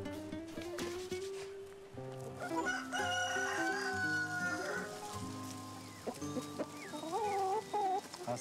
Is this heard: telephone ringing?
no